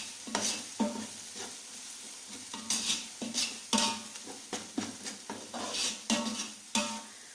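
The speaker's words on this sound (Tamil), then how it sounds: "இதை நல்லா மிக்ஸ் பண்ணிடலாம்." A spoon stirs garam masala into chicken biryani in a pot, making about a dozen irregular scraping strokes over a soft sizzle, each stroke a sharp, close burst, with no one talking.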